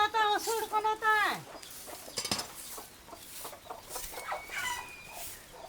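Chickens cluck nearby with a loud run of rising, squawking calls at the start, then softer scattered clucks and chirps, with a voice talking faintly underneath.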